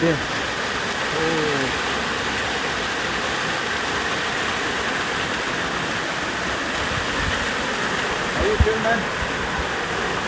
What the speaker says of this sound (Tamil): அந்த தண்ணி சத்தத்தை பார்த்தீங்கன்னா லுக்